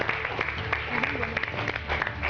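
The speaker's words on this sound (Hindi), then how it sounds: "जोरदार तालियां शिवाशीष के लिए।" Studio audience at a student reality show grand finale applauds a junior winner, brief lively clapping with a host's voice over it.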